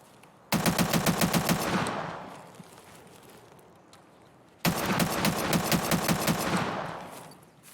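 Two rapid bursts of automatic gunfire from .45 ACP FMJ rounds in the video game Escape from Tarkov, each a quick run of about ten shots with a lingering echo between, moderately loud and with no talking.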